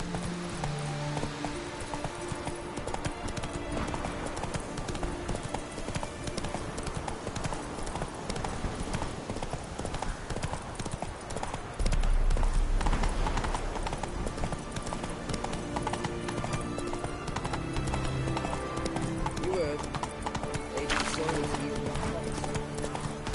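Horse hooves clip-clop steadily at a gallop in The Witcher 3: Wild Hunt, a continuous rhythmic beat running beneath game music, with talk heard across the ride.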